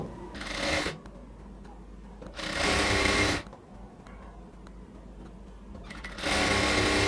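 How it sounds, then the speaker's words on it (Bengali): A sewing machine stitching folded fabric edges on a baby frock, three loud running bursts of rapid needle chatter separated by quiet pauses, close and without speech. "এবার আমরা এটার চারপাশটা খুব সুন্দরভাবে আগে হচ্ছে কি বলা যায় ফোল্ডিং করে সেলাই করে নেব"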